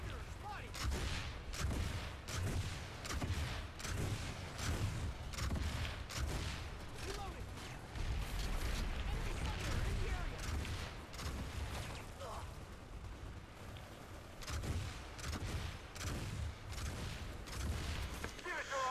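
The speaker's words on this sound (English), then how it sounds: "They're all shooting at me." Enemy players firing on one target in Planetside 2, a dense stream of rapid game gunfire with booms and mechanical clatter running through the whole stretch, a voice talking intermittently over it.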